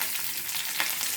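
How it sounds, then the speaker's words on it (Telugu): Dried red chillies and tempering seeds fry in a little oil, giving a brief, close, steady sizzling crackle with no voices. "కొంచెం నూనె వేసి దాంట్లో తాలింపు గింజలు వేసాను ఫ్రెండ్స్"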